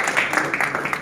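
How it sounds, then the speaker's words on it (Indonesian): Applause from an audience at a school prize-giving ceremony for students who completed Quran memorization, a dense, steady patter of many hands clapping together for about a second. "Tepukan."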